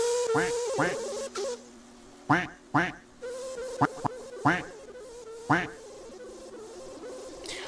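Ducks in a Roblox train game quack in short, loud bursts at irregular intervals over a buzzing, insect-like drone, with nasal honks close by.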